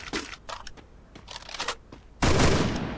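Gunfire in the mobile battle royale game Garena Free Fire: bursts of rapid shots, followed by a loud sustained crackling blast near the end, with no voices.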